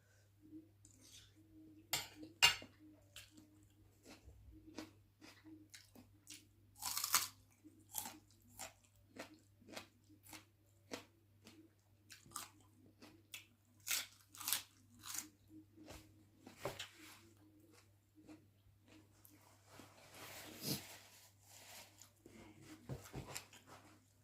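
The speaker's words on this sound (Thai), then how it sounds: "กระเทียมเนี่ยใกล้กัดกินกลมๆเลยเด้" Close, crisp crunching from repeated bites and chewing of raw garlic cloves, with irregular crackly bursts over a low steady hum.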